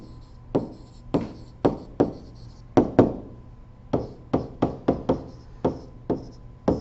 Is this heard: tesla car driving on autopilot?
no